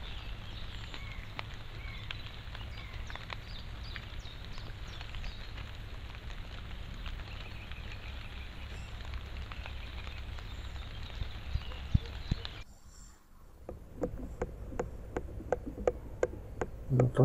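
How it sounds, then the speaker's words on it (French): Faint irregular taps of raindrops strike the camera over a soft, steady outdoor hiss in woodland, the ticks growing sharper after a brief quiet. "On entend les gouttes de pluie sur la caméra."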